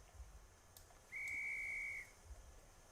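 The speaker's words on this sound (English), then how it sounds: "Guard's whistle's blown" A guard's whistle on the Dartmouth Steam Railway in Train Simulator 2020, with an S160 steam locomotive waiting: one steady, shrill blast lasting about a second, clear above a low rumbling background.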